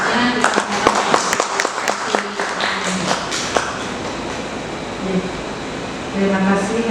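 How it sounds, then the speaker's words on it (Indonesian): Seminar audience applauds, a sustained patter of clapping hands that fades out, followed by someone speaking into a microphone. "Untuk itu kita berikan aplaus dulu"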